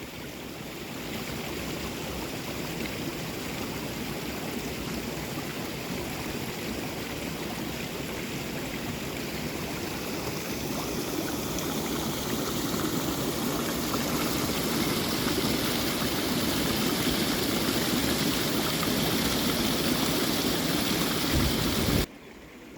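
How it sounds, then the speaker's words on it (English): Rain-swollen stream channel flowing out of a pond on a homestead after a week of rain: a steady, full rush of running water, close and continuous, ending abruptly. "This channel that's flowing from the pond has turned into more of a"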